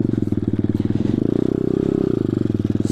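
A pit bike engine putters and buzzes steadily as it rides through a snowy winter forest. It is loud and close, with a rapid pulsing beat and a brief rise in revs midway.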